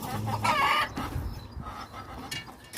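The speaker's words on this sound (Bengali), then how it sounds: "দেশি মুরগি, সৌদি আরব।" Desi chickens cluck and call at close range in Saudi Arabia, a few busy bursts of clucking early on, then quieter intermittent calls with light background noise.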